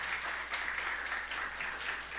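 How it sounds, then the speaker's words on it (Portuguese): Church congregation applauding during a Portuguese-language worship service, a steady, diffuse wash of many hands clapping at moderate distance, sustained evenly across the whole moment. "Você pode aplaudir o Senhor."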